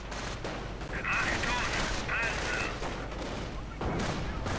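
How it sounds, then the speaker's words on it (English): Rifle and machine gun fire in a World War II strategy game, dense crackling bursts and volleys, with a tank fighting nearby, heard under a commentator's voice. "the Grenadiers are getting suppressed by suppressive fire"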